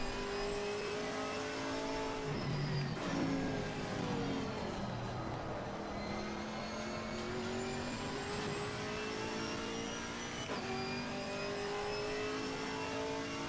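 A GT4 race car engine in the Assetto Corsa Competizione sim racing game revs hard through gear changes, steady high-pitched drone with upshift drops and tire noise throughout, no voices.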